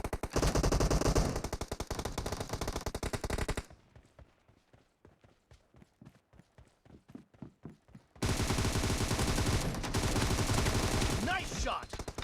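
Rapid bursts of automatic gunfire in a shooter video game, loud and continuous at first, then a sparser run of distinct shots before dense firing resumes, with no talk over it.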